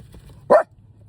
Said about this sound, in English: every time somebody comes, she's going to bark